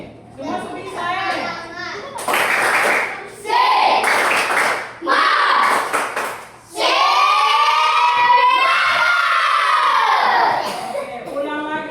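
A class of children claps hands together in several loud rhythmic bursts, a dense wash of many small hands close by, with young voices chanting and a teacher speaking between rounds.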